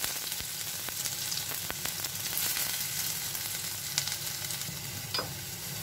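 Chopped onion frying with fenugreek seeds in a kadai, a steady close sizzle with occasional stirring scrapes and clicks throughout, no talking.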